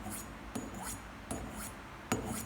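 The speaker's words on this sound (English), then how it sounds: "Each blade of the scissors sharpened for 1 to 2 minutes will become sharp." A scissors blade being sharpened on the unglazed bottom of a ceramic bowl, heard as a soft continuous gritty rasp with a sharper scraping stroke roughly every three-quarters of a second, close and fairly quiet.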